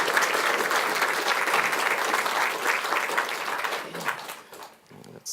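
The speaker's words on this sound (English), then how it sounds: "Give him a hand of applause." Audience applause at a talk on visualising the universe, with dense, lively clapping that thins out and trails off near the end.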